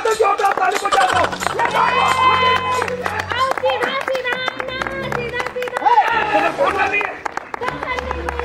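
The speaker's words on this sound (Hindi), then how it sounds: "ताली बजा दो जोर से ताली बजा दो" An audience at a Chhattisgarhi comedy stage play claps loudly and fairly continuously, with crowd noise and overlapping voices mixed in.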